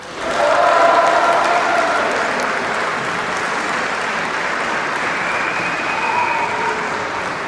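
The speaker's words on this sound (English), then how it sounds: "And applause there for John Mason." Applause breaks out for John Mason at the Glasgow East election declaration, a large hall crowd clapping loudly and continuously with scattered cheers, swelling quickly then holding steady.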